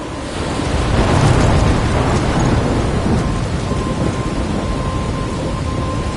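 Thunderstorm in the video game Life is Strange, with heavy rain pouring steadily and a deep rumble of thunder rolling loud and close early on, then the downpour continuing as a dense, even roar.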